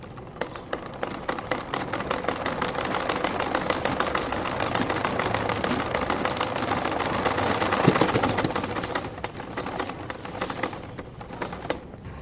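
A motorbike engine running steadily and driving a car alternator, with a continuous buzzing idle and rapid mechanical ticking, close and loud with a slight swell partway through, no talking.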